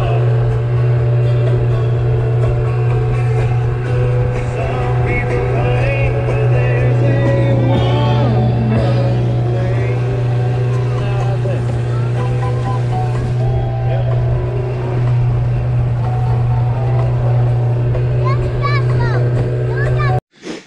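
A motorboat engine drones loudly and steadily while people, including a child, talk over it; the motor cuts off abruptly at the end.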